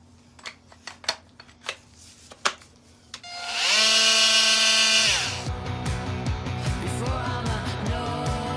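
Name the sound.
power tool cutting off a fiberglass lip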